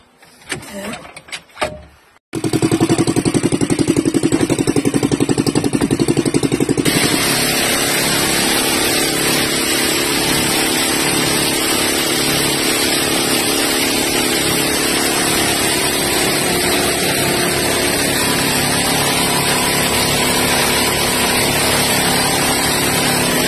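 A Yamma 18 HP outboard motor on a fishing boat starts after a brief rattle and then runs steadily and loudly, a constant buzzing drone with no pauses.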